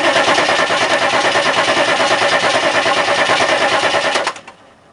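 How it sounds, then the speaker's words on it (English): A starter motor cranks a plugless engine with an even, rapid churning drone that runs steadily for about four seconds, then cuts off abruptly into near silence. "Starter sounds alright."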